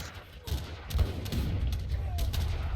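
Cannons fire in a strategy video game battle, a dense run of booming shots and crackling gunfire rolling over one another at moderate distance, with faint background noise between blasts.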